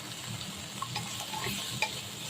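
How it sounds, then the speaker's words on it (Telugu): Cashew nuts frying in a pan with onions give a steady, close sizzle with a few soft stirring scrapes and light clicks, and no one speaks. "ఇప్పుడు దీంట్లో జీడిపప్పు వేసుకుందాం. గుప్పుడు అంటే గుప్పుడు జీడిపప్పు వేసానండి. చూడండి, మంచిగా ఫ్రై చేసుకుందాం."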